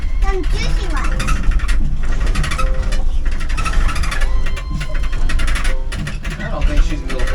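A Land Rover Series 3, abandoned for 24 years, rolls along off-road with a steady low engine and drivetrain rumble, loud and continuous, while people talk over it.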